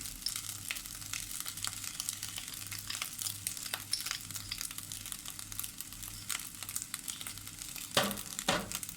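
Tom Yum shrimp fried rice frying in a pan with chili paste added, a steady close sizzle and crackle with scraping stir sounds throughout and a louder clatter near the end; no talking.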